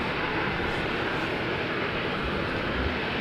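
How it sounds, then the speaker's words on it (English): A Boeing 737 airliner taxiing at Amsterdam Schiphol Airport gives off a loud, steady broadband jet roar that holds constant throughout. "the 737 is coming this way"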